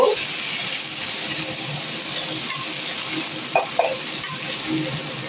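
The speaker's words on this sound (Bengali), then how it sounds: "সবগুলোই একসঙ্গে দিয়ে দিয়েছি একটু নেড়ে চেড়ে নেব" Fali fish, drumsticks and spices are stirred in a frying pan, with a low continuous sizzle and a few soft clinks and scrapes of the utensil against the pan.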